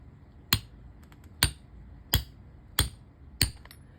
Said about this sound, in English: So I'm just going to use a small brass hammer to drive that in.